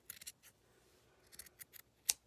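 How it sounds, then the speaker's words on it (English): Several quiet, crisp snips of scissors cutting through a large sock at the ankle, in short irregular clusters ending with one sharper, louder cut, with no talking. "right at the ankle here, you're going to make a cut."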